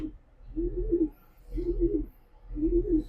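Three soft, low racing-pigeon coos repeat at a steady pace, each a rounded murmur with brief pauses between, close by and free of talk.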